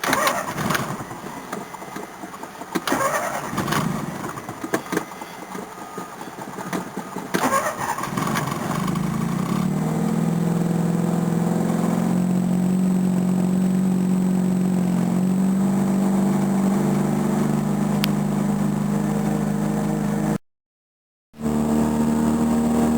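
A small NSU car engine cranks a few times, catches, and settles into a steady, close idle that runs on with a brief cut near the end.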